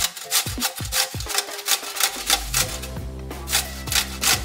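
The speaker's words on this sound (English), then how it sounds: "And I have here as well, 6 pickles. And we'll just go ahead and grate that up here." Dill pickles, skin on, rasp against a kitchen grater for Polish dill pickle soup, giving quick rhythmic rubbing strokes close up, with a steady low hum underneath.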